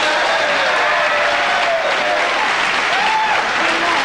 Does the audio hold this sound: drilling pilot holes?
no